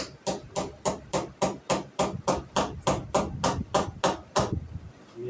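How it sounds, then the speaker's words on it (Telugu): A cloth banner being hammered taut, about fifteen steady, evenly spaced blows ringing out loud and close with no talk, ending in a short quiet tail. "వదులు రాకుండా చక్కగా కొట్టేసి కొట్టేసుకోవాలి."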